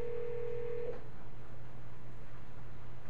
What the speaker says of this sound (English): Now we're going to call Miss Carol Bundy